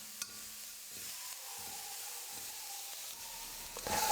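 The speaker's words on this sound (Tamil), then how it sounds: "எல்லாத்தையும் சேர்த்து 1 நிமிஷம் நல்லா வதக்கி விட்டுக்கலாம்." Grated carrot and chopped coriander being sautéed in a pan, a soft, steady sizzle with a few light scrapes of stirring, fairly quiet and with no voice over it.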